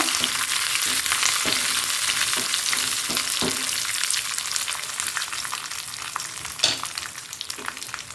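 Dried chillies and curry leaves frying in hot oil, a steady close crackling sizzle with occasional stirring clicks and scrapes.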